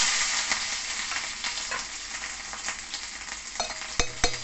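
Ginger and green chilies fry in a pan with a steady crackling sizzle, punctuated by sharper pops and stirring scrapes toward the end, close and moderately loud with no talk.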